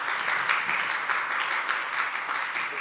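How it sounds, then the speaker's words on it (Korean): A church congregation claps in welcome during a Sunday service, a dense, continuous applause from many hands in a room, steady and moderately loud for the whole stretch with no break. "우리 한번 환영의 박수 하시겠습니다."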